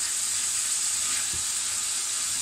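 Meat frying in a paella pan as it cooks down and its juices evaporate, a constant close, bright sizzle with no voices over it.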